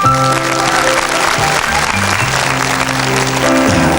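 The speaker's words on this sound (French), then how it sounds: "Et notre dernier candidat, c'est monsieur Lionel, qu'on applaudit très fort" A television studio audience applauds a contestant on a 1981 French fans' show. The clapping is loud and steady for about four seconds, with sustained musical tones running underneath.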